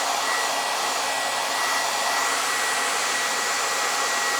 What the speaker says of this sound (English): Who would have thought to try using a hairdryer to repair a book?